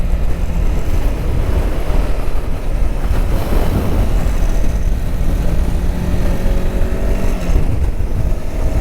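A Voge 525 DSX motorcycle engine drones steadily while riding on the road, a busy, constant revving roar mixed with heavy wind rush throughout, with no voices.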